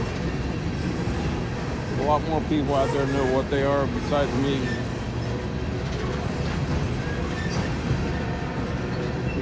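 Montana Rail Link freight cars roll past with a continuous low rumble and rattle, while someone talks over the noise.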